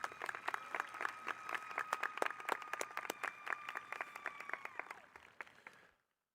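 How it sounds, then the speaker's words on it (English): A high school commencement audience applauds its student speakers. The crowd claps in a lively, fairly sparse patter that carries on, then thins and fades out near the end. "Please give them another round of applause."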